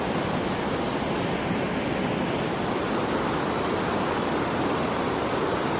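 A mountain river rushes past old Manali town in India, a dense, steady roar of flowing water filling the whole stretch without pause or voices.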